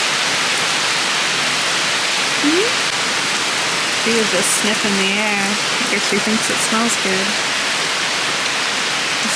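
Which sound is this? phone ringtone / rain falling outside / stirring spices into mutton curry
rain falling outside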